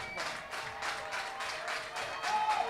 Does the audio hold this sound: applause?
yes